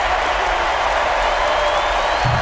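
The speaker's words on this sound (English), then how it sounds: "And the crowd is locked in." Crowd cheering in the NBA 2K25 basketball video game during a tense late fourth-quarter free throw: a steady, dense roar of many voices holding at an even level throughout, with no single voice standing out.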